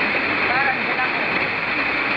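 Floodwater rushes in a loud, continuous roar during Typhoon Crising in the Philippines, with heavy wind and rain. A voice is faintly heard beneath the water.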